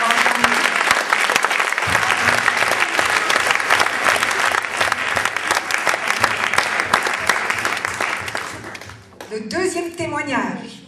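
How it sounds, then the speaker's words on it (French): A church congregation at a French and Armenian worship service bursts into loud, dense applause that holds steady for about nine seconds, then drops away as a voice begins speaking. "Oui, applaudissons le Seigneur."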